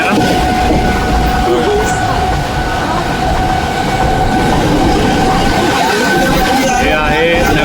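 Train running along the railway near Panvel, heard from on board: a loud, steady rumble of wheels and carriage noise throughout, with a sustained tonal whine and brief higher squeaks near the end, under talk.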